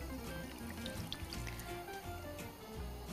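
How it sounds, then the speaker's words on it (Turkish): Milk pours steadily into a pot of tomato soup on the stove, a faint continuous liquid trickle heard alone at low level. "içine şöyle bir çay bardağı kadar süt ekliyorum"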